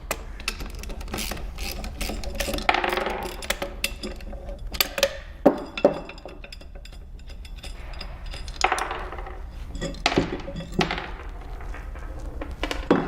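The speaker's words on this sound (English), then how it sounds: "I can get the wear plate out" Metal parts of a Gorman-Rupp pump clink and rattle as the wear plate is worked free after two rear bolts come out, with scattered sharp knocks and scraping handling noises up close.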